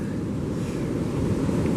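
Ocean surf rolls in at the St Lucia estuary beach as a continuous, loud, low roar of breaking waves, mixed with steady wind buffeting the microphone and no voices.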